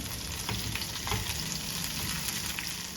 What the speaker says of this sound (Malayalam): ഇനി അതിലേക്ക് ഒരു മൂന്ന് പച്ചമുളക് ഇട്ട് കൊടുക്കാം പിന്നെ കുറച്ച് കറിവേപ്പിനെ ഇതൊന്ന് വഴറ്റട്ടെ